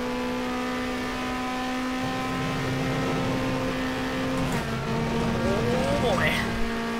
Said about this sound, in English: this is our second hot lap in this car